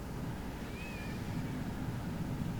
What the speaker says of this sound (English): I just heard a meow